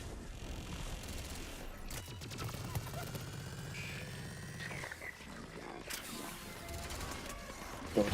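Gunfire in the Mass Effect video game, rapid bursts and mechanical clatter layered with roaring effects and impacts, dense and continuous with muffled voices mixed in.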